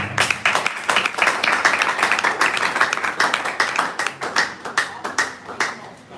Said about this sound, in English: Please, can you clap for her, please?